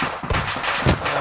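Suppressing gunfire in the military shooter Arma 3: several sharp, loud shots, about three distinct bursts spaced unevenly over a second, each with a quick, crackling decay.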